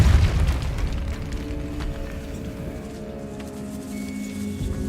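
A Depulso force spell going off in Hogwarts Legacy inside a decaying catacomb, one deep booming burst up front that decays into a lingering rumble with faint tonal hum.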